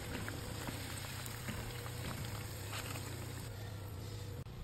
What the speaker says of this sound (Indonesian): tinggal digoreng aja di minyak yang sudah dipanaskan sebelumnya